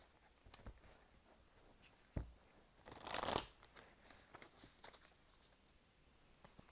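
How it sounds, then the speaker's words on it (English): Tarot cards being shuffled by hand, quiet scattered flicks and taps with one louder riffling burst in the middle, close and faint with no talking. "One last shuffle here."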